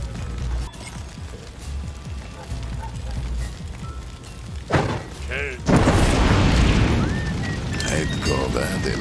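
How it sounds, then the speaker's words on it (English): Spilled oil catching fire in Desperados 3, a sudden whoosh and thump followed by a loud, steady roaring blaze, with game voices and ambience beforehand. "Now let's get ourselves some fire."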